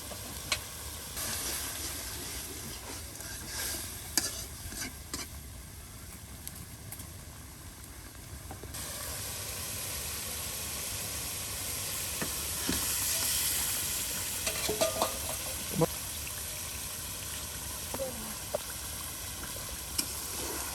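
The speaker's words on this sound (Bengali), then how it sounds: "গুঁড়া মশলা, পেঁয়াজ কুচি, রসুন কুচি, বাটা মশলা সব একসাথে এখন কষিয়ে মজে নেওয়া হবে" Ground spices, chopped onion, garlic and spice paste fry together in a pan outdoors on a rainy day, giving a continuous hissing sizzle with occasional stirring knocks and no talk.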